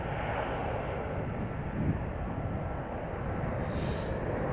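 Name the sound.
relatively quiet airplane at Amsterdam airport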